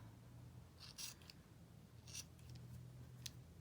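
Scissors snip pom pom yarn in short bursts, a few quick crisp cuts clustered close together, faint and near, against a quiet background.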